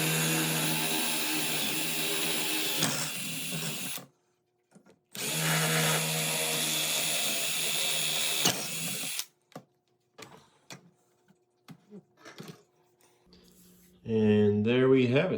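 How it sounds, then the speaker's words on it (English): A power drill drills out holes in a kitchen cabinet for a new handle, two loud sustained whirring runs of about four seconds each, then light clicks and handling, and a voice talks at the end. "let's get our drill. Go ahead and drill these out"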